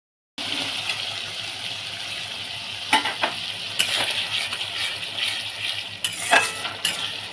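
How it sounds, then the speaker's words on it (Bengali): Onion frying in oil with ginger, garlic and green chilli, a steady close sizzle with occasional scrapes and clinks of a spatula against the pan. "এখন না পেঁয়াজের গন্ধটা যাচ্ছে ততক্ষণ আমি ভাজবো"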